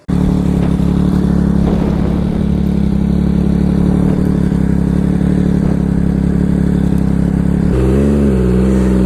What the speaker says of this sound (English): as you can probably tell from the sound coming out of the exhaust